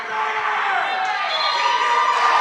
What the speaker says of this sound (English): all the fans and stuff cheering, like, that's exciting.